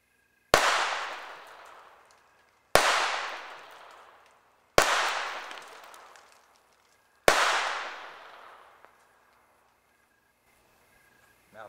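Four loud, sharp pistol shots from a Kel-Tec P17 firing subsonic ammunition, spaced about two seconds apart, each followed by a long decaying echo before a quiet tail.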